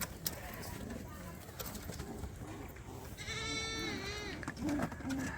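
Pet pigeons coo softly nearby, a few low throaty calls over a faint background of other bird and animal noises.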